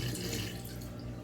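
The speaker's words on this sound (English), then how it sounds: "I'm going to pour a little bit of this out because there's a lot of this wet stuff." Beef broth pouring out of a container as muffin batter is prepared, a steady close liquid splash and trickle running without pause.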